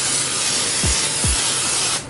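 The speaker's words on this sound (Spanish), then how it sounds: "Vamos a rociar aceite en spray." Cooking oil spray hisses steadily from a can over a pan while onions are being browned, a continuous close broadband spray lasting about two seconds with a couple of faint low thumps.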